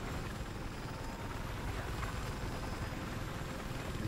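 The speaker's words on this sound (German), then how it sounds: "Ah, Heli ist da." A helicopter in the video game Battlefield 4 produces a steady, faint broadband whir and rotor rumble, continuous and even throughout with no talking.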